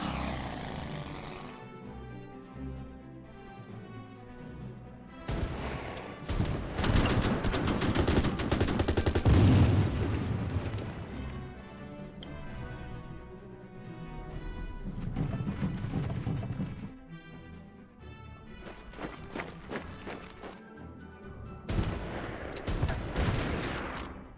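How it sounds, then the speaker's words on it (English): Bombing and gunfire in the wartime strategy game Order of Battle: dense, booming bursts of explosions and rapid shots that swell and fade across the stretch, loud and continuous, with no talking. "Bombing us."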